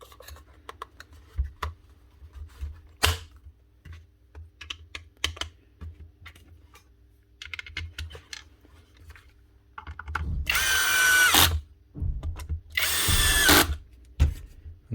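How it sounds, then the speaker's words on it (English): Repaired Bosch GHO18V-LI 18V cordless planer with a new bearing and a worn motor, running in two loud, harsh whining bursts near the end, after scattered light clicks and handling. "One Bosch planer with a single new bearing. It's not going to sound perfect because the motor at the end of the day is still on its way out."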